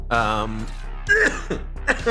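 A few harsh throat-clearing coughs, close and loud, interrupting a man's speech in short bursts.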